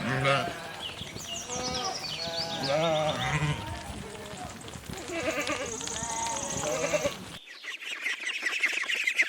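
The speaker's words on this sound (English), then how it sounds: "Sheep." Several sheep bleating one after another, wavering cries layered close together over a farmyard background, ending in a brief noisy tail.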